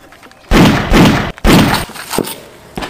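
Three heavy, loud bangs in quick succession, each a sharp burst that rings out briefly, followed by softer knocks.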